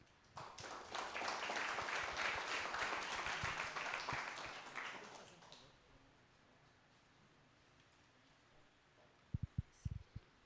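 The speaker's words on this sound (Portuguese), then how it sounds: "Palmas para vocês." Applause from a church adolescent ministry gathering, a burst of many hands clapping for about five seconds, then fading out to quiet room tone with a few sharp knocks at the end.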